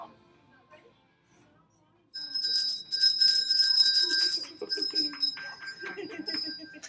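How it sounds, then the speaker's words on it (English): A bell rung in a bridal shop sounds out after a quiet start, its bright ringing peals sustained for a few seconds while voices and cheering rise around it. "Whenever you're ready, you'll just ring the bell."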